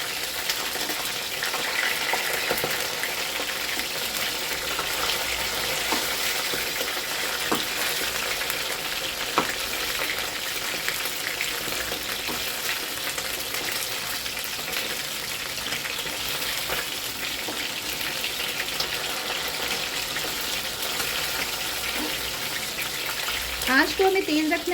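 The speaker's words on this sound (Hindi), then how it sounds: "आँच को हमें तेज़ रखना है, धीमी आँच पे फ्राई नहीं करना है हमें।" Golden fish pieces frying on high heat in a pan, a dense continuous crackling sizzle with faint stirring and water-like noise throughout, steady and close, a brief flurry near the end.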